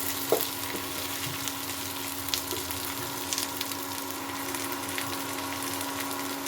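Fried onion and eggplant with spices are stirred in a pan over quiet frying, with occasional spatula scrapes and taps over a low sizzle and a steady background hum.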